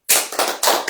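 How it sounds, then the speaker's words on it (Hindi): Hands clap in a few sharp, close bursts at an indoor gathering, uneven and overlapping like a small group applauding together. "ताली बजाओ सोन।"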